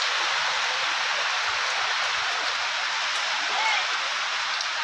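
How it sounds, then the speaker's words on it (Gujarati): Rain falls steadily around a hut, a dense, even hiss that stays loud and unbroken throughout, with no voices. "આવો વરસાદ ચાલુ છે જોઈ શકો છો"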